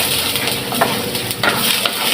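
Ginger hits hot oil in a pan, giving a loud steady sizzle with a few scraping stirs, close and without talk.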